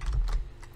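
Brief burst of typing on a computer keyboard while entering Snort rule SIDs, a few close soft keystrokes over a low hum.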